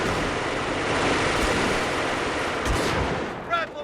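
MG42 machine gun fire rattles in a Company of Heroes battle as a dense, continuous roar of gunfire mixed with explosions and rumble. It is loud and sustained throughout, with a voice faintly audible underneath.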